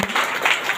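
A church congregation claps in thanksgiving, a short burst of dense clapping from many hands heard for under a second.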